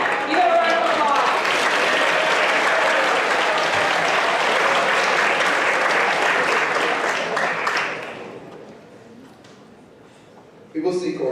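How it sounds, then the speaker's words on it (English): A school spoken word finals audience, grade 9 and 10, claps in sustained, dense applause for a grade 10 performer, loud for about eight seconds before fading to quiet, with a brief burst of noise at the end. "Give a round of applause."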